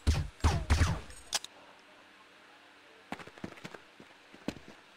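Gunfire in Quake 2 during a competitive team match: a burst of loud, rapid shots in the first second, then scattered sharper shots and impacts after a pause, with no talking.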